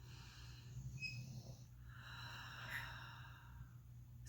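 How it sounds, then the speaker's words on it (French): Slow meditative breathing: a soft inhale followed by a longer audible exhale, quiet and close, with no speech. "Alors, je fais une respiration,"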